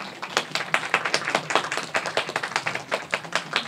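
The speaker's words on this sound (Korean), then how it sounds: "큰 박수로 맞이해주세요." Audience applause at a film screening talk in a cinema, clearly separate hand claps in a fairly thin, uneven rhythm from a modest crowd, close and steady throughout.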